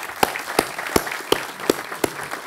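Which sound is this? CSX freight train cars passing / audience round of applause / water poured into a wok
audience round of applause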